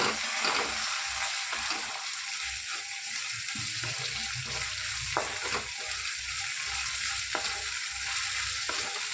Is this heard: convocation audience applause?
no